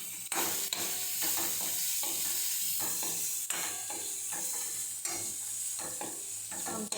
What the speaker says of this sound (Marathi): तेलात ना थोडंसं लालसर करून घ्यायचं त्याला